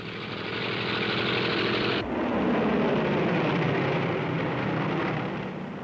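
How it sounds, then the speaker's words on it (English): Several WWII American fighter planes, including new Hellcats, fly over the Pacific, a steady loud propeller-engine drone with a slight shift in tone partway through. "Japanese sound detectors pick up the American planes."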